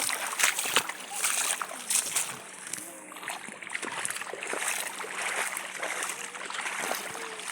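Floodwater splashing and sloshing close by, a continuous churning wash with scattered sharper splashes and a voice in the background.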